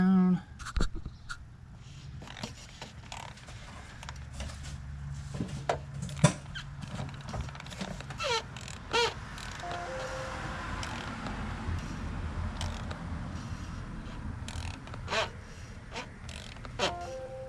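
A ratchet socket wrench running down the fuel filter cap on a 6.0 Powerstroke diesel, with a series of sharp, close clicks and rattles scattered irregularly over low workshop noise.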